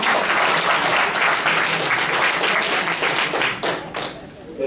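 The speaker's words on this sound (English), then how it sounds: "Let's give him a round of applause for that information." Audience round of applause at a repatriation and investment conference in a hotel in Accra, Ghana: dense, steady clapping throughout, thinning and tapering near the end, with some voices mixed in.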